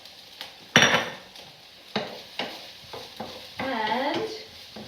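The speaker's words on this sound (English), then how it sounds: "let's chuck our capsicum in" Chopped capsicum is tossed into a pan for a pasta sauce, giving a sizzle and clattering stirs against the pan in short separate knocks and scrapes, close and moderately loud.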